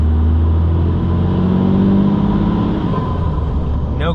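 A truck with a swapped 12-valve engine and mud tires, driven in winter blizzard conditions, rumbles steadily up close as its pitch dips and climbs through gear shifts, with no voices.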